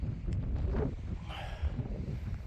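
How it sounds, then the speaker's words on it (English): Blustery, warm southerly wind in the North Pennines buffets the microphone, a low rumbling roar that rises and falls in gusts with no voices. "although it's a bit windy"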